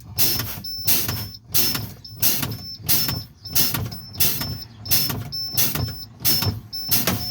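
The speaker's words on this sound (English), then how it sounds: "Now we're just going to fan the brakes until the spring brakes pop out." Repeated air-brake bursts from a truck as the brake pedal is fanned during a CDL air brake test, about a dozen sharp hissing releases at a steady rhythm of roughly one every half second, loud and close with no talk.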